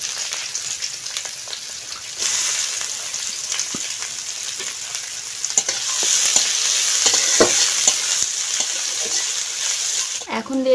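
Chopped garlic and bay leaves frying in hot oil with five-spice tempering, a steady broad sizzle that swells louder midway, with occasional stirring scrapes and faint background voices.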